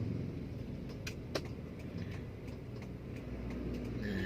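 Manual car creeping forward on the clutch alone without throttle, a low steady idle rumble inside the cabin with faint clicks and rattles, no voices.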